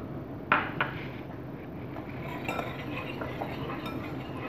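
Cocoa powder being stirred into milk in a cooking pan for an eggless chocolate pudding, with a couple of sharp utensil clinks against the pan early on, followed by steady soft scraping and swirling.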